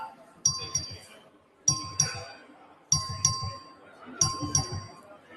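A clerk rings the bell for a recorded vote in a legislative chamber: four sharp, ringing dings about a second apart, each fading quickly, while low voices murmur underneath.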